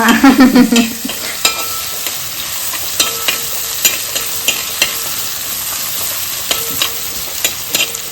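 Food frying in a pressure cooker with crushed garlic, for an egg biryani, gives off a loud sizzle. A spoon clanks and scrapes against the pot in a quick, repeated rhythm, and there is no talk.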